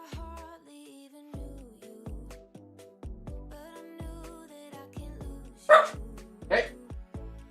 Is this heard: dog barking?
yes